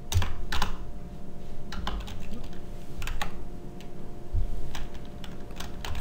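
Rapid keystrokes clatter on a computer keyboard as a short query is typed into a search box, the clicks close and crisp in uneven bursts against a quiet room.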